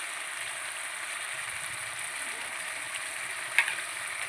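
Chital fish mixture with yogurt sizzles steadily in a pan, a continuous frying hiss throughout, with one brief sharp clink of a spoon near the end.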